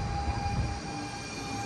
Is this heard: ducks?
no